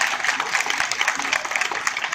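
An audience claps at a public function in Bhilai-Durg, producing steady, fairly loud continuous applause with individual claps flickering through the wash.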